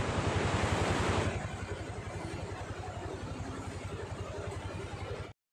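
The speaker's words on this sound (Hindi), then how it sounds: "ये हमारी गंगा जी, देखो आज पानी बहुत ज़्यादा बढ़ रखा है" The swollen Ganga river at Uttarkashi rushing in spate, a loud, continuous roar of turbulent water with rhythmic low pulsing, steady throughout.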